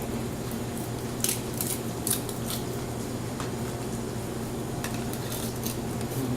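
A knife slicing into raw salmon near the gills, crisp scattered cutting clicks over a steady low kitchen hum, with no talking.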